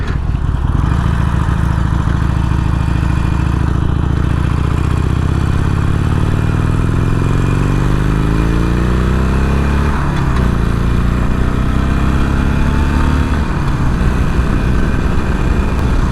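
A Harley-Davidson Sportster Iron 883 being ridden on a road rumbles loudly and continuously up close, its engine pitch sweeping upward through the gears with no voices.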